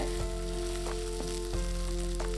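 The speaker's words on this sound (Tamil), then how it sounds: "இரநூறு கிராமுக்கு கொஞ்சம் கூடுதலாக சின்ன வெங்காயம் உரிச்சு வச்சுருக்கேன் இதை சேர்த்து வதக்கி விட்டுக்கலாங்க" Steady sizzling of shallots sautéing in hot oil, with a few soft scraping stirs of a spoon breaking in now and then.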